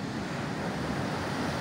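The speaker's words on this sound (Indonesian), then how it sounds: "Suara dentuman air ombak." Ocean surf pounds at Ngiriboyo beach in Pacitan, a steady, loud roar of breaking water with heavy wind buffeting the microphone and no voices.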